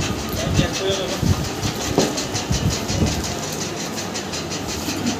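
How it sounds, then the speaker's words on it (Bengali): A Jack F5 industrial sewing machine runs in a garment workshop, giving a fast, even stream of rhythmic clicking stitches over a low mechanical hum, with some voices in the background. "আমাদের গার্মেন্টসের মেশিন দিয়ে সব সেলাই করা হচ্ছে"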